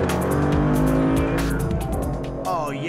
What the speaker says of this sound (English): It sounds like the engine is right basically between my feet. It's really a nice sound.